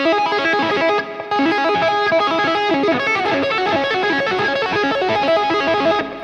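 Distorted electric guitar through a Line 6 Helix plays a fast run of notes with a light echo and some room reverb, loud and continuous after a brief break.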